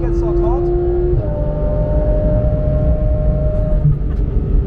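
A Ferrari F430 sports car runs on a race circuit with a loud, steady engine drone and a long sustained tonal whine, heard close up.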